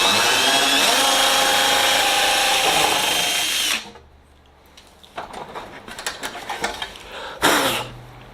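A power drill runs steadily and loudly on a Sonex aircraft's aluminum tail cone part for nearly four seconds, then stops, followed by scattered clanks and handling noises of the workpiece with one last short burst.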